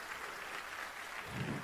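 Applause from an audience after a CUNY Law student's speech, a faint, steady wash of clapping that swells slightly near the end.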